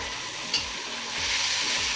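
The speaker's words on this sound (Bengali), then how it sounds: "এবার কষিয়ে নিচ্ছি।" Dried chillies, cumin and other spices with salt being stir-fried in a pan for a rui fish yoghurt curry give a steady, close, dense sizzle with faint stirring scrapes and no talking.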